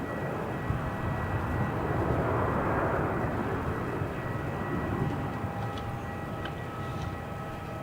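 Boeing 787-8 Dreamliner airliner, eleven years old, departing Melbourne Airport: a steady, distant broadband jet roar that swells slightly and holds, heard from afar with no talking.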